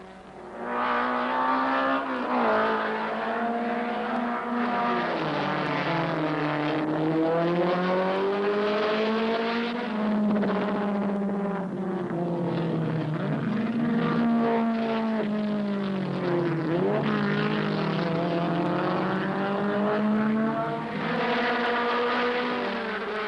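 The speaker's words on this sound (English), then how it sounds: "the season-long rivals thrashed away from Don Pike's third-place BMW" Race cars, a BMW and an Alfa Romeo, scream past at full throttle, engine notes rising and falling through gear changes and corners, loud and continuous.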